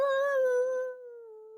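A child imitates a wolf howl with her voice, one long sustained wavering tone that starts strong and slowly fades over a second and a half, close and clear with no other sound.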